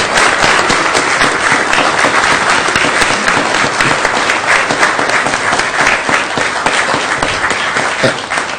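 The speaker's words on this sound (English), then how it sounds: "So give her a big round of applause" Sustained, loud applause from a city council meeting audience honoring a departing staff member after 18 years of service, dense steady clapping filling the room throughout.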